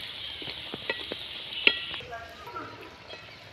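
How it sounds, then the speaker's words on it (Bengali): Banana malpua frying in oil, a soft steady sizzle with a few light clicks and taps of a utensil, fading quieter partway through. "দেখুন বন্ধুরা মালপোয়াটা কেমন লাল করে ভাজা হচ্ছে"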